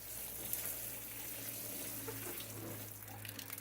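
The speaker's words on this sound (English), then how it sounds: "Now on top of that, I'm going to add my gallon of water." A gallon of rainwater poured steadily onto shredded cardboard, giving a continuous close splashing wash with a low hum underneath for a few seconds.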